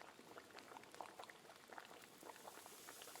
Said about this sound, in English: hearing the bubbling of food